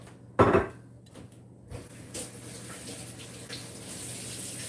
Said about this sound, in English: I'm going to go rinse my hands off